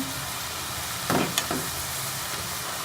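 Pakoras frying in hot oil give a steady, faint sizzle, with a couple of brief louder crackles as the pieces are turned over, and no voice.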